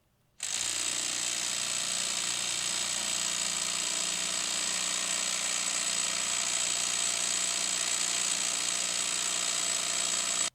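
A Warrior 58523 impact driver, a budget Harbor Freight model, runs on a dyno test rig. After a short silent start it sets into a loud, steady, dense mechanical roar and holds it for about ten seconds.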